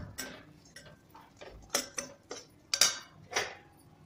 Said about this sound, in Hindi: तो अब इसे मैं थोड़ा भून लेती हूँ